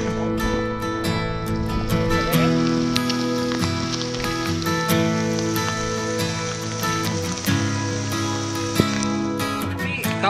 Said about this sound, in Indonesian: Kalau dapat hujan kayak gini